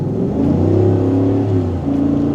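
A 2025 Chevrolet Suburban RST with its 6.2 V8 accelerates on a highway, a loud, deep, steady engine growl heard from inside the cabin, with its pitch shifting slightly as it pulls.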